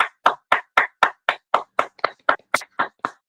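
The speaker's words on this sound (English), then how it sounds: "Let's clap." A small audience claps in unison to honour a woman turning 50, about a dozen sharp, evenly spaced claps close by, with no talking.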